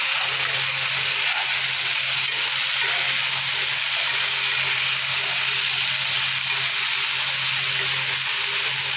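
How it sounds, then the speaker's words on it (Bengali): Potatoes frying with salt and a little turmeric in a pan give a steady, close sizzle and hiss that holds without a break. "লবণ দিয়ে একটু ভেজে নেবো আলুটা।"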